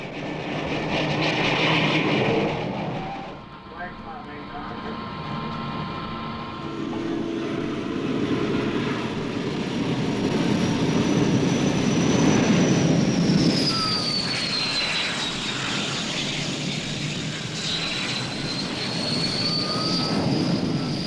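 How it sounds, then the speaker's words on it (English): A jet aircraft landing on the carrier USS Constellation during the Vietnam War, engine at full throttle, a loud sustained roar with a rising whine that sweeps past, continuous and alone without voices. "As the plane comes in, it puts on full throttle so that if the hook fails to catch, it can get airborne again."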